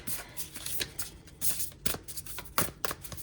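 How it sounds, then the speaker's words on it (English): Cards are shuffled close up, with repeated quick riffling and slapping bursts in an uneven rhythm, no voices. "put those other 2 cards back in the deck and shuffle"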